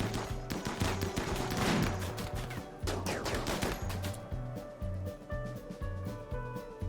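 Sniper rifle fire in the RimWorld video game, a few sharp game gunshot cracks over a looping background music track with a steady beat, fairly quiet overall.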